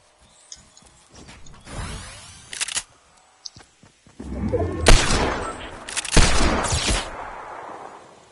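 A sniper rifle shot rings out in Fortnite among scattered sharp cracks and mechanical clatter, with several loud bursts separated by quieter gaps.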